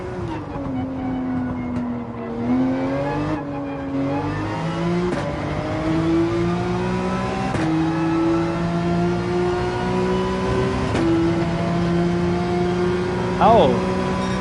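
Car engine in Gran Turismo 7 at the Maggiore circuit, revving and accelerating through repeated gear climbs with pitch rising and resetting at shifts, loud and steady, with tyre squeal near the end.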